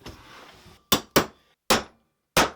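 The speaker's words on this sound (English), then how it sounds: "Might need to tap it with a hammer." Four sharp metallic taps of a hammer driving a carriage bolt into a hole, irregularly spaced and close up, follow a moment of soft rustling.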